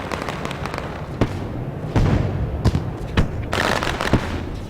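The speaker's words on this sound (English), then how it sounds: "Fireworks there off of turn number 2." Fireworks burst over a speedway during a Bump 'N Run street stock race, with sharp booms and crackles at irregular intervals over a steady, distant crowd-and-engine rumble, loud and close.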